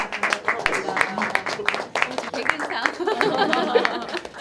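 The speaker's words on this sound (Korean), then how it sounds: "큰 박수로 축하해주세요." An audience claps for graduates at a certificate ceremony for a community media course, a dense patter of hand claps running steadily throughout with some chatter and light laughter mixed in.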